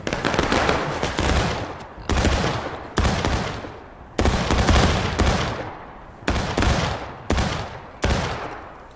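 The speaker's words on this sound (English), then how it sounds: "Independent fire at will, boys! Independent fire at will!" Musket volleys from a War of Rights American Civil War battle game crack out in about eight loud, sharp bursts, each ragged with overlapping shots and trailing rumble, spaced roughly a second apart.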